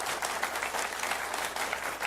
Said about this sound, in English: What are you clapping for?